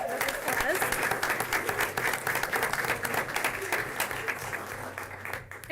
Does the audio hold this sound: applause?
yes